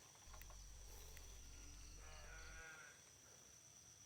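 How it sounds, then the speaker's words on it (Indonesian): A goat bleats faintly in the distance at a former tragedy settlement, a wavering call over a steady low hum and insect chirping outdoors. "Kok ada suara kambing sih"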